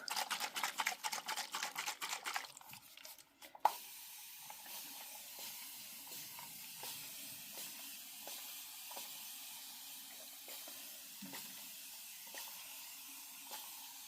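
Quick rapid hissing bursts of a spray bottle spraying crocheted granny squares at the start, followed by a steady soft hiss with faint clicks and rustles.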